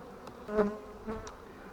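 Soft buzzing of honey bees around a hive after rain, faint and wavering, with a couple of brief louder swells drifting close.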